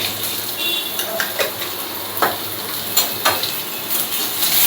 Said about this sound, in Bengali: আলুটাকে এবার ভালো করে নুন হলুদের সঙ্গে মিশিয়ে নাড়াচাড়া করে একটু লাল লাল করে ভেজে নেব